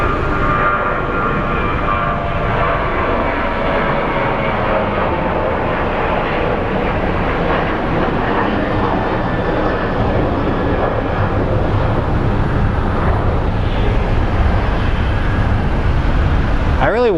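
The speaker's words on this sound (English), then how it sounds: "I really wonder what that Navy plane is doing here." A Navy plane flies over Sky Harbor airport, its engine roaring loud and steady for the whole stretch while a voice talks over the din.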